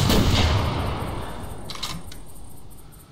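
Hunting rifle shots at bears in theHunter 2014, a loud close blast followed by a long rolling echo that fades across open terrain, with a second fainter crack.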